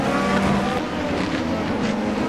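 Race cars roar in an online video game race at the Okayama GP circuit, a dense, loud engine drone with overlapping cars sustained throughout, no talk over it.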